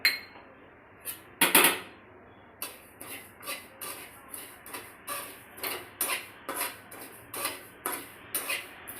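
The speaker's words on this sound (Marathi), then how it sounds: "खसखस भाजून घेऊया" Poppy seeds dry-roasting in a pan while being stirred, a steady series of short scraping strokes repeating about every half second, with a louder clatter near the start.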